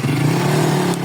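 A motorcycle engine drones steadily at close range, a brief, loud, continuous hum with no talk over it.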